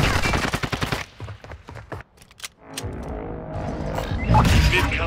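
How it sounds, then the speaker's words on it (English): Rapid bursts of mid-caliber gunfire crack loudly in the opening second, followed by a few scattered single shots, then a sustained rumbling din of continuing fire and commotion. "Mid-caliber rounds."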